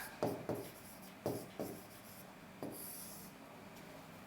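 Writing on a board during a law lecture: several sharp, close strokes in quick bursts over steady room hiss, with no speech.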